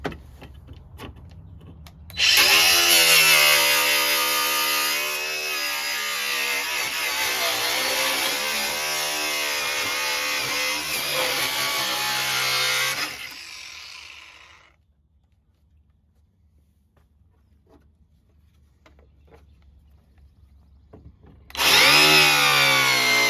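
A power tool cuts the edge off a plastic shield while fitting a lighting kit to an EZGO TXT golf cart, a loud high whine lasting about eleven seconds that stops, then starts again after a quiet pause.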